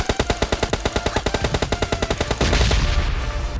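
Automatic gunfire in PUBG, a long rapid burst of evenly spaced loud shots fired up close, ending in a dense louder blast of overlapping fire and echo.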